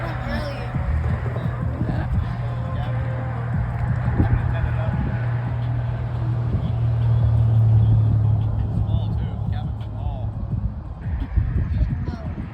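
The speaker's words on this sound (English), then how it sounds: "You can see the cars going across the bridge" Cars crossing a bridge at night near a fishing spot, a low, distant traffic rumble rolling along beneath close, casual conversation.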